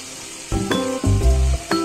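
Soy sauce and green chilli sauce poured over fried capsicum, carrot and onion for a mixed chowmein hit the hot pan with a close, sizzling crackle, broken by a few brief clinks and scrapes of a utensil.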